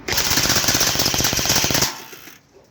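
A Mugen M249 MK46 airsoft machine gun on an 11.1V 3S battery fires one rapid, loud burst at close range for about two seconds, then a short mechanical tail.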